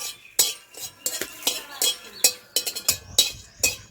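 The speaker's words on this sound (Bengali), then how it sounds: "দারচিনি দিয়ে ভেজে নিচ্ছি" Cardamom pods and cinnamon frying in a pan, heard as a series of sharp metallic clinks and scrapes from a spoon stirring, irregular and close, with a faint sizzle between strikes.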